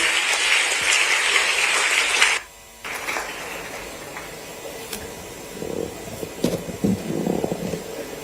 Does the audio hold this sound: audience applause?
yes